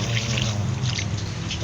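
Water pours steadily into a cooking pot for chopsuey, a close, continuous rushing splash with nothing else over it.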